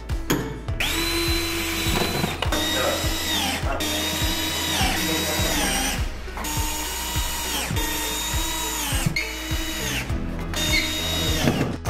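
A power screwdriver drives screws to fasten brackets beneath the base of a lift-up 160x200 bed, with repeated whirring bursts separated by short pauses and ratcheting clicks, close and loud.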